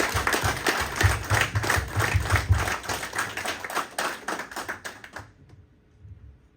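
Audience applause at a family award ceremony, steady clapping from many hands for about five seconds, then dying away into near silence.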